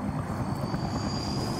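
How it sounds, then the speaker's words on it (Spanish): A helicopter in the video game Black Ops 2 produces a steady, loud rotor and engine drone with a thin high whine, continuous throughout with no talking. "Un fucking helicóptero."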